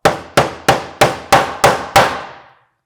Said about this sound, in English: so let's hammer in the second one